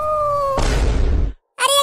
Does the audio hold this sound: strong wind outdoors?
no